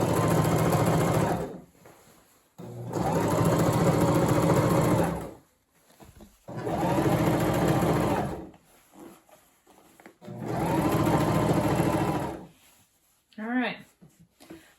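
A sewing machine stitches denim work pants in four long, loud runs of fast mechanical whirring, each separated by a short pause.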